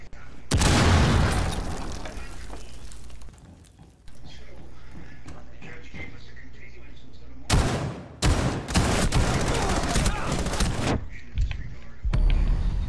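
Shotgun blasts and breaching explosions in Rainbow Six Siege ring out in loud bursts, separated by stretches of quieter game ambience, with players talking now and then.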